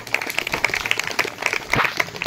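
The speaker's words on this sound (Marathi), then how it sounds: "जोरदार टाळ्या झाल्या पाहिजे" A group applauds at an 86th birthday celebration for a grandmother, with steady, fairly close hand clapping that continues evenly for about two seconds.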